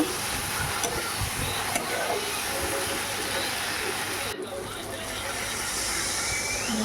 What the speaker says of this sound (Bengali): মশলা তেল ছেড়ে গেলে তারপর জল দিতে হবে ভালো করে নাড়িয়ে ছাড়িয়ে নিতে হবে